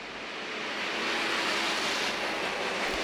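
A standard gauge Ansett passenger train runs along rails in Australia, a steady broadband rumble and rush of wheel noise that swells slightly and holds constant, with no talk.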